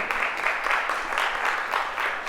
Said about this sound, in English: Even got a round of applause.